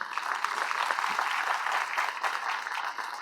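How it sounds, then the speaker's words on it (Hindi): An audience claps steadily throughout, a dense continuous patter of many hands with no voices standing out. "आई थिंक इससे बेटर बननी चाहिए तालियां यार"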